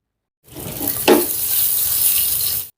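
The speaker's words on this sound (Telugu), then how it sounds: "ఇప్పుడు ఈ గుడ్లని ఒక రెండు నిమిషాలు ఫ్రై చేసుకుందాం" Boiled eggs fry in a pan with a pinch of turmeric and chili powder, giving a steady close sizzle with a brief stir scrape near the start.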